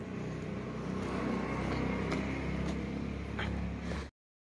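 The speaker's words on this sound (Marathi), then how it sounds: "सकाळ सकाळ आली दुधाची गाडी" A milk delivery vehicle on a road at about five in the morning makes a steady, fairly close engine and tyre rumble that holds evenly for about four seconds and then cuts off.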